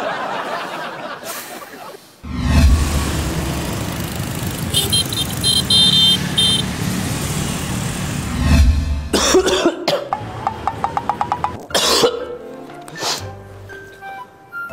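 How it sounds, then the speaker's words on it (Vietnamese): A person in a Vietnamese comedy scene coughs several times, loud and close, with a rattling burst of throat sounds and short pauses between them, followed by sharp clicks and faint voices. "mình ho mình lấy tay mình che miệng đi con, không thôi mình ho nó bay qua đó con nha"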